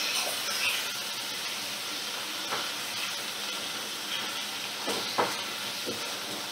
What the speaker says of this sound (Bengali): ফ্লেমটাকে মিডিয়ামে রেখে আমি এগুলো ভালো করে কষিয়ে নেব।